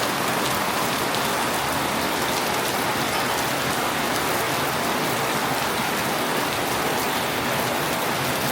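Heavy rain pouring down at a house in Mueang Feuang, a dense, unbroken hiss of drops drumming on surfaces, steady and loud throughout.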